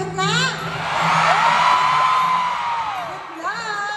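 Fans at a fan concert in Manila let out a loud, sustained cheer, with high whoops and screams swelling over a large crowd and then fading, and voices calling out at the edges.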